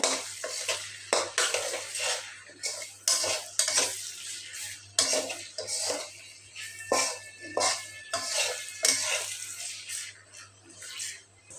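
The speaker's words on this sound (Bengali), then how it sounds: "পেঁয়াজগুলি আমি নেড়ে ছেড়ে লাল করে হালকা লাল করে ভেজে নিলাম" Onions stirred and fried until lightly browned in a pan, repeated loud scraping and clanking strokes of a spatula in an uneven rhythm over a soft sizzle.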